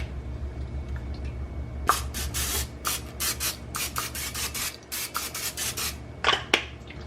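Repeated short hissing bursts of cooking spray into a loaf pan, close and fairly loud, in an irregular rhythm with brief pauses between them.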